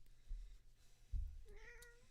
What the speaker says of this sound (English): We got a kitty to cheer everyone up